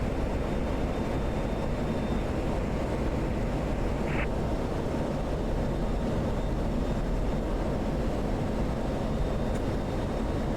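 An F-16C jet in the DCS flight simulator rolling down the runway on takeoff in a crosswind, a steady loud broadband engine roar holding constant throughout with no voices.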